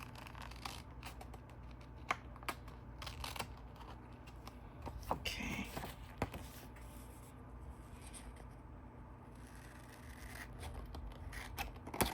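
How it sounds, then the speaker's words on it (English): Scissors snipping paper while cutting out dollhouse parts, a steady run of short crisp cuts with occasional louder snips, fairly close and quiet, no voices. "You want to make sure you cut as close as you can."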